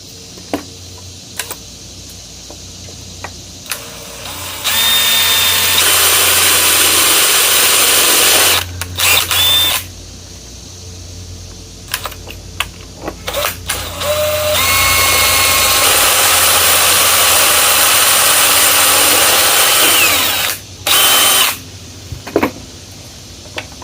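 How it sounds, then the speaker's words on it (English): A power drill whines loudly in long sustained bursts while drilling aluminum, stopping and starting several times, with brief clicks and handling noise in the gaps. "I used the wrong drill bit. Let me just bump it up."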